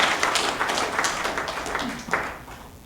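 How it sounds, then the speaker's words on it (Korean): An audience at a peace symposium applauds the guests, a dense patter of many hands clapping at moderate distance that slowly thins out and fades toward the end. "오늘 오신 모든 내빈을 위하여 다시 한번 박수 드리겠습니다"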